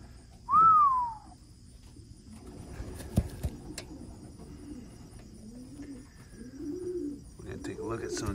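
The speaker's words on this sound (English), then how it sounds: "2024 bred Robertson family racing pigeons" Young 2024-bred racing pigeons, crated indoors, give one clear whistling call near the start, then soft low cooing phrases that build toward the end, all fairly close.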